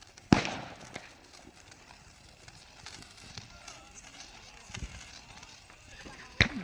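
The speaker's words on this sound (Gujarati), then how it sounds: "ફટાકડા ફૂટી રહ્યા બધા" Two sharp, loud Diwali firecracker bangs burst near the start and end, with smaller pops and faint talking between them.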